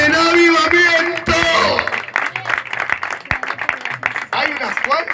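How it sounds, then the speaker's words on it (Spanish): A church congregation claps together during a lively Spanish-language service, dense applause swelling after a loud voice and then continuing as a steady patter of many hands. "Fuerte el aplauso"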